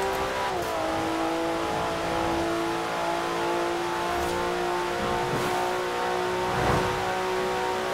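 A 2019 Porsche Carrera S engine in Forza Horizon 4 revs hard and accelerates, a loud continuous drone with rising and falling pitch and no talk.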